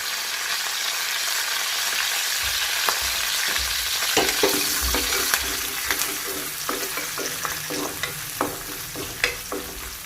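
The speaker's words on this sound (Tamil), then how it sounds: "பொரிஞ்சாக்கில் இஞ்சி, பூண்டு, பச்சை மிளகா." Ginger, garlic and green chili fry in hot oil with curry leaves and whole spices for a coconut milk fish molee, making a steady loud sizzle. Frequent clinks and scrapes from stirring run through it.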